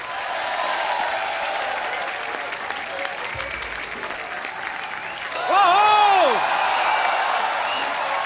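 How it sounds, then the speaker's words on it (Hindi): Studio audience of a Hindi comedy talk show bursts into loud, sustained applause, with a brief whoop rising near the end over the steady clapping. "जोरदार तालियों से स्वागत।"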